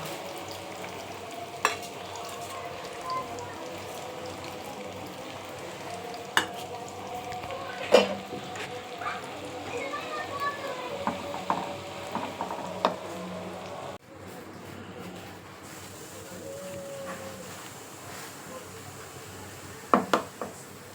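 Spices and grated mango for pickle frying in hot oil on a gas stove, a steady soft sizzle with occasional stirring clicks and scrapes, fairly quiet throughout.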